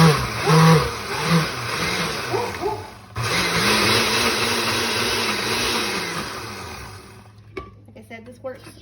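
A blender chopping garlic cloves with salt and pepper for bruschetta runs as a loud, steady motor whir with rising and falling pitch for several seconds, then cuts off into quieter kitchen noises.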